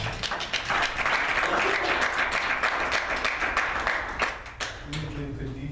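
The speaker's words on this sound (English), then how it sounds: "We give Khadija another round of applause" After a spoken reading, an audience breaks into applause that swells to a dense, steady clapping and then fades, with a few voices emerging near the end.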